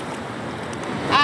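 Sea waves arriving at the beach at a resort, a continuous broadband wash of surf rolling in, with a brief higher call or squeak near the end.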